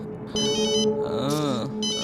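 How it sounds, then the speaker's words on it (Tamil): A mobile phone ringtone for an incoming call plays as a bright repeating melodic chime, loud and close, with a rising and falling warble in the middle. "ஏன் இவர் இப்ப ஃபோன் பண்றாருன்னு தெரியல."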